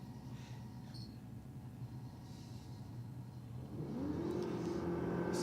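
Audi race car at a drag strip, its engine rumbling at idle and then revving up loudly near the end, heard from a moderate distance with no talk.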